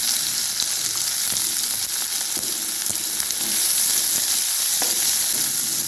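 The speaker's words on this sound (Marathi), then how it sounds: "कांद्याला छान असं 2 मिनिटं भाजून घ्यायचे लालसर" Chopped onion sizzles steadily in hot oil with crushed garlic, mustard seeds, cumin and curry leaves, a dense continuous frying hiss with occasional soft stirring scrapes, close and even throughout.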